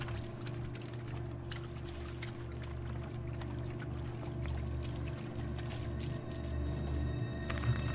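Water flows steadily in the video game Spirit of the North, a soft, continuous pouring and rushing that stays at an even, fairly quiet level throughout.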